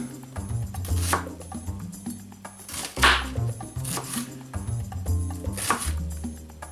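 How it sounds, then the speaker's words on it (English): Small to medium onions being minced with a knife on a board, giving close, irregular bursts of chopping knocks with short pauses between them, and no talking. "I'm adding 2 small to medium sized onions, but of course you could use more or less just as you like, and mince them as finely or as coarsely as you like."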